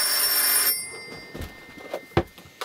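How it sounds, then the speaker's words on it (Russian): A telephone rings indoors with a bright, buzzing bell tone that stops abruptly, followed by a few faint clicks and handling noises in a quiet room. "Телефон."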